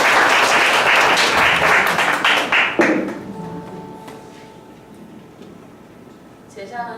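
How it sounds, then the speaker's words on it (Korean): A church congregation applauds during a disciples' class graduation in a Sunday service, a loud burst of many hands clapping that fades out after about three seconds, leaving quiet room tone and a few faint scattered claps. "박수 한번 주세요"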